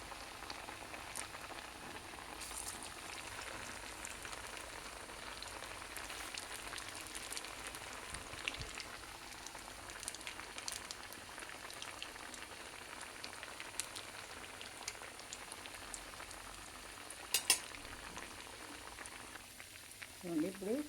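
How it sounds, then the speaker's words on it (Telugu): Sabudana vadas frying in oil, a soft continuous bubbling sizzle heard fairly faint and close, with a few light clinks near the end. "ఇప్పుడు కొద్దిగా వేగినాయి."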